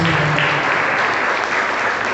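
A church congregation at a Sunday service claps loudly and steadily, a thick wash of applause from many hands that holds at an even level from start to finish.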